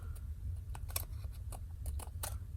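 Scissors snip through paper during a stuffed envelope and tag book craft project, several quick crisp cuts in irregular rhythm, close and fairly loud, with no talking.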